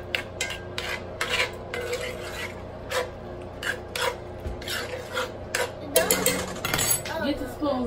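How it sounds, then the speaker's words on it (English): Spoons scrape and clink against a pan while taco meat simmering in a little water is stirred, with rhythmic scraping strokes and a louder clatter near the end, set against low kitchen background noise. "Get the spoons on so you can stir up the meat."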